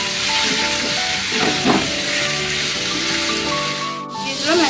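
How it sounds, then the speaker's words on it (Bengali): Boiled, drained banana flowers hit a hot wok in a loud, continuous steamy hiss, with shifting sizzle as they are stirred. "এবার মোচাগুলো দিয়ে দেবো কড়াইতে"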